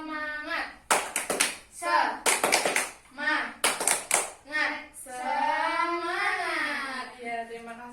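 Schoolchildren do a rhythmic classroom spirit clap, short crisp bursts of clapping in patterned groups alternating with chanted voices, ending in a long drawn-out shout.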